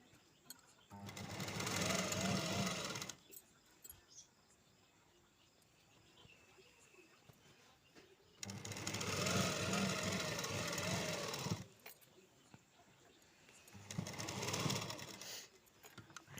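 A sewing machine stitching a sleeve lining runs in three steady whirring bursts, each several seconds long, with quiet pauses between them, close and fairly loud.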